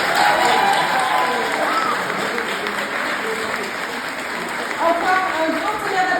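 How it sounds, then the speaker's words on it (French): Sustained applause from an audience at a school talent show, steady dense clapping throughout with a crowd murmur and a few cheers rising near the end. "Encore un grand tonnerre d'applaudissements pour tous les talents et toute l'équipe d'organisation."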